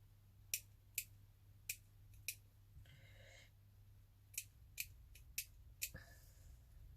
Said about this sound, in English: I'm just going to hold it under the desk in the bin and chop off, snip into it